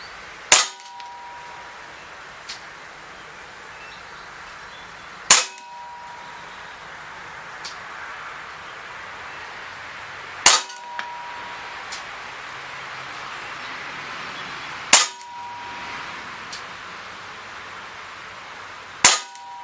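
Daisy Powerline 5501 blowback CO2 BB pistol fired four times at spaced intervals of roughly five seconds, each shot a sharp, loud crack standing out against quiet background hiss, with a few fainter clicks in between.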